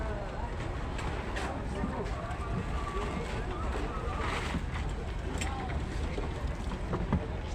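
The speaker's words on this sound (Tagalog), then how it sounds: "ang daming bangka" Many fishing boats gathered at a Philippine fish port during sardine season: a steady outdoor wash of water and engine drone mixed with wind buffeting, with background voices throughout.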